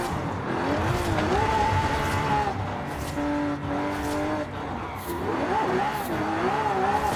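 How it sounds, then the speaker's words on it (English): Car drifting in Forza Horizon 5, with a steady loud engine drone and rising, wavering tire squeals through the slides, continuous and close. "Drifting in this POV is crazy in this game."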